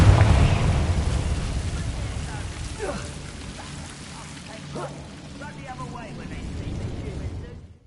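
A Confringo fire spell fired in the video game Hogwarts Legacy: a loud, broad whooshing blast at the start that decays into a rumbling, crackling tail, with smaller bursts and sweeping game effects following.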